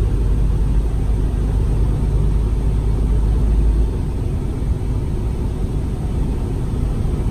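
Cabin of a 2011 Freightliner Cascadia 125 truck driving in 10th gear, a loud continuous low engine drone and road rumble that drops slightly midway through, with no talking.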